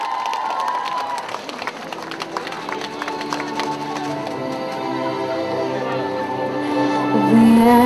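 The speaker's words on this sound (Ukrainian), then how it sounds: "Ваші оплески!" A crowd at an outdoor Independence Day and city day festival in Derhachi claps and cheers for a singer: scattered applause with some shouts that gives way to music with sustained tones, which rises louder at the very end.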